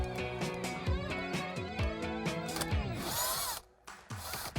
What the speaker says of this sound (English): You've got 2 more 7mm bolts we're gonna remove up here